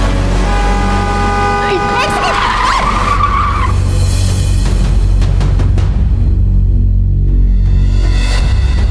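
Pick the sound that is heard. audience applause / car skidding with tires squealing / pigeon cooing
car skidding with tires squealing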